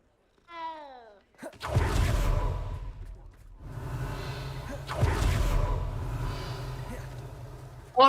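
A cat in the video game Hogwarts Legacy gives a short, rising meow near the start, followed by louder whooshing game effects and a breathy sigh.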